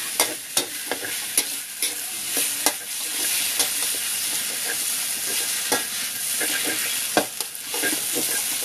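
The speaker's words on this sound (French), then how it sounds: "Donc les pâtes, il faut juste les faire saisir." Pasta searing in a hot pan, a steady loud sizzle and frying hiss throughout, broken by scattered sharp clicks and scrapes from stirring.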